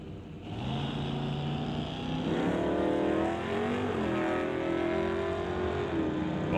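Two drag race cars, one a 1981 Malibu, launch at Mission Raceway in NHRA divisional racing, with a loud sustained engine roar that rises in pitch as they accelerate away, with no voices.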